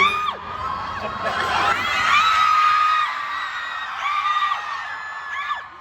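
A large convention panel audience screams, whoops and cheers continuously, with high-pitched shrieks rising and falling throughout, loud and close from start to finish.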